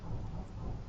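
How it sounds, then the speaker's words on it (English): Thunder rumbles outside, a low dull roar filling the brief moment at moderate level, with a rain-like hiss spread over it. "it is thundering like a motherfucker outside"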